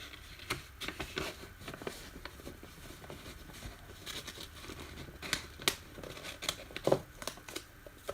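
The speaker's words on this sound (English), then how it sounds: "pull them out of the envelope." Trading cards being slid out of a paper envelope behind an insert card, making a run of rustling, crinkling paper scrapes and small taps up close.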